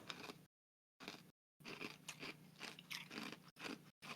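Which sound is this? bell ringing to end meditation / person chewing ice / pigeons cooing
person chewing ice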